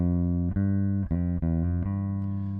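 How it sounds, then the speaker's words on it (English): A guitar plays a G Mixolydian scale, about six distinct sustained notes picked one after another at a steady pace, close and clear with no talking. "Mixolydian mode sounds like this."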